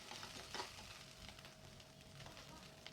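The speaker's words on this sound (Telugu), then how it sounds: "ఇంకా స్టవ్ మీద అయితే కడాయి పెట్టుకొని ఆయిల్ వేసుకున్న తర్వాత ఈ కాకరకాయలను అయితే అందులో వేసి ఫ్రై చేసుకుంటున్నానండి." Bitter gourd pieces fry in oil in a kadai on the stove, giving a faint, steady sizzle with occasional stirring scrapes.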